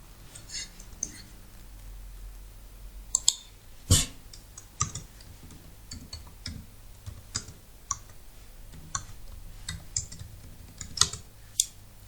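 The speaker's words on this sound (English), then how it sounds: "let's continue with our typing." Typing on a computer keyboard while working in a spreadsheet: soft, irregular key clicks spread across the stretch, with a few sharper taps, close and fairly quiet with no talking.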